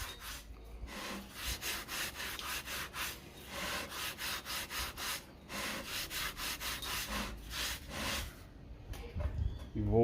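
A tool rubs hard against the wall of a handmade clay bonsai pot, thinning it, giving close, loud, rhythmic scraping strokes in a steady back-and-forth rhythm that pause briefly between passes.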